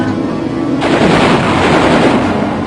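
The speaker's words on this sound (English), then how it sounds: "Vulcan cannon." Vulcan cannon firing in the PlayStation 2 game Battle Engine Aquila, a loud, dense, continuous roar of rapid gunfire that cuts in abruptly and holds steady over background game noise.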